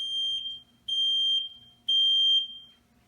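Nest Protect smoke detector sounding its alarm during a smoke test, three long piercing electronic beeps in an even pattern with short gaps, loud and close with no talking.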